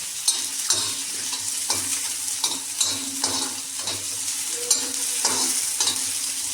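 Ingredients fry in hot oil in a pan, giving a steady broadband sizzle. A spoon stirs through them in repeated scraping strokes, loud and close, with no voices.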